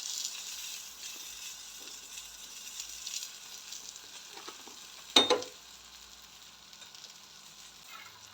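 Gözleme made from ready-made yufka fries in a pan with a steady, gentle sizzle, broken once by a brief sharp clatter before the frying settles back to a quiet hiss.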